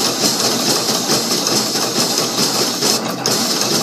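CAMS automatic rhinestone machine running steadily, a dense, even mechanical whir and fine rapid clatter at constant loudness throughout, with no voices.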